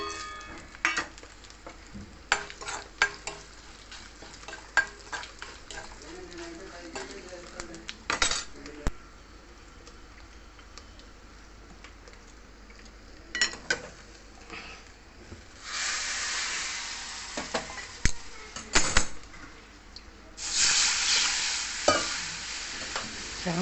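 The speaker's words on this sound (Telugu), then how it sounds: "సాంబార్లో నెయ్యి పోపు పెడితే బాగుంటుంది" Ghee tempering of dried red chillies, mustard seeds, cumin and asafoetida for hotel-style sambar, with intermittent stirring and utensil clinks, then bursts of loud hissing sizzle as the spices hit the hot ghee, alone without talk.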